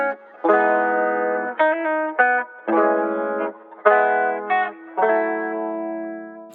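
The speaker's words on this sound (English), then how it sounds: "to do a phone type of effect, you basically want to get rid of the low and high frequencies to keep only the mediums" A lo-fi remix of a track played through a telephone-style EQ that strips the lows and highs. Sustained midrange chords come in phrased bursts of a second or so, thin and boxy, with no voices over them.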